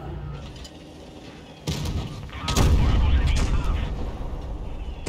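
A heavy tank cannon blast from a Vz. 55 in World of Tanks Blitz, a sudden boom followed by a second, louder rumbling impact that lingers under the game's engine noise.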